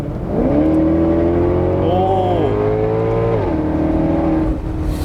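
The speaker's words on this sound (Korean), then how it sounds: "엔진 사운드도 훨씬 잘 들어오고" A 2017 Maserati GranCabrio Sport engine drones loudly up close with the top down, rising and falling in pitch as it revs through gears, with road and wind noise around it.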